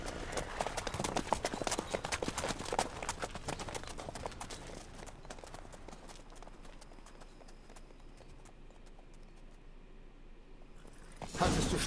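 Horse hooves in The Witcher 3 clip-clop in a fast, steady rhythm that gradually fades and thins out, then a brief louder burst of sound at the end.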